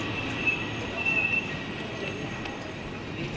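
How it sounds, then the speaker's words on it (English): A train arrives at Interlaken station in Switzerland: a steady, loud rail rumble with faint metallic squeal fills the whole stretch, and no voices stand out. "All right, our train is here."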